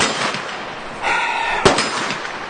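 A single sharp gunshot from a Chinese Type 97 FTU bullpup rifle cracks out at mid-clip on an outdoor range, loud and close, following a stretch of steady background noise.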